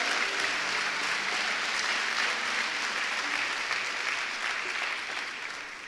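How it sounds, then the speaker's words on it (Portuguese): Sustained, loud applause from a church congregation during a Portuguese-language service fills the room evenly, then tapers off slightly in the final second. "Se for para Ele, você pode aplaudir mais forte."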